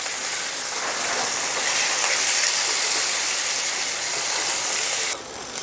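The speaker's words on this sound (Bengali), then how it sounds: "পেঁয়াজটা একটু ভাজা ভাজা করে নিয়েছি" Onions with chopped green chillies sizzle in hot oil in a pan, a steady, dense crackling hiss that stays loud and even throughout, then drops off abruptly near the end.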